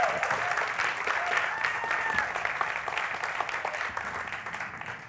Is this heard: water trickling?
no